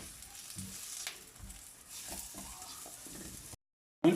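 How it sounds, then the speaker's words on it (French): Onions sizzle and fry in a wok while a spatula stirs them, a soft crackle with scrape and clatter noises, then a brief silence and a louder burst. "Et on fait blondir nos oignons."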